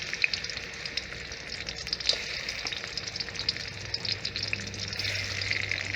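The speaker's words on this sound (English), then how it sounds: "we heat up some oil. Okay. And we're going to fry our garlic first." Garlic frying in hot oil in a pan, a steady close sizzle with fine crackling pops and occasional stirring scrapes, no voices.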